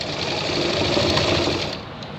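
Sewing machine stitching a shirt, running in a steady, continuous whir up close for about two seconds before slowing and fading.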